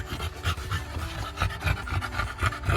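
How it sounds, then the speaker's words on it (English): An English bulldog pants hard and fast after a hike in Blairsville, a steady rhythmic run of close, loud breaths with no talking. "he was panting pretty hard when we got done"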